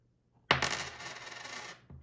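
An old mostly-copper American cent, 1981 or earlier, drops onto a hard surface with a sharp ringing strike followed by a sustained, shimmering metallic ring that fades over about a second, then a second brief tap, heard alone.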